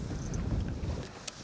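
Strong wind buffets the microphone during a fishing outing in Canada, a loud continuous low roar with gusty swells and a brief sharp knock near the end.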